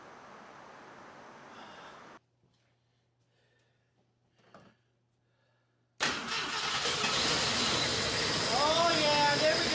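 A 1975 AMC Matador that has sat unused for a long time is cranked and starts. A rough cranking whirr gives way to quiet, then the engine catches and runs loud and steady close by, with a hissing roar.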